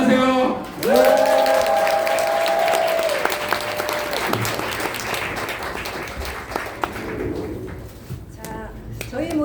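Audience applause fills a seminar hall after a motivational speech, a dense wash of clapping that starts after a short tonal sound and stays loud for several seconds before tapering, with voices mixed in.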